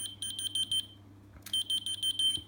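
A whistle-activated key finder keychain beeps in two bursts of rapid, high-pitched chirps separated by a short pause, over a faint low hum.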